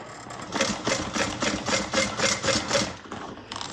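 A sewing machine stitches a bucket bag with its handles and connector held clear, running in a steady series of rapid mechanical bursts that pulse about twice a second, close and fairly loud, with no talking.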